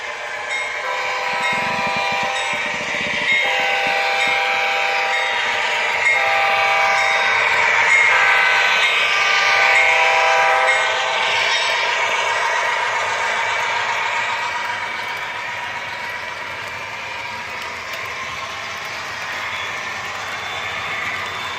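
A train runs loudly and continuously, a droning rumble with a sustained horn-like tone rising and fading, no talking.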